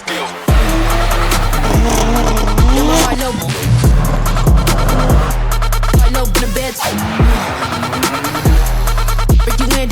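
A BMW drift car spins a donut, its engine revving hard in repeated surges while the tires squeal and skid. The sound is loud and close throughout.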